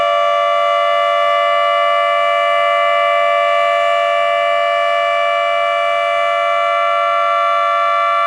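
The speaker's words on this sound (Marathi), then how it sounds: "ठीक 10:50 पहिला सायरन वाजवण्यात आला आणि 2 मिनिटांनी दुसरा सायरन वाजला" A municipal corporation siren sounds for the Martyrs' Day tribute to Mahatma Gandhi, a loud steady wailing tone held unbroken throughout with no voices.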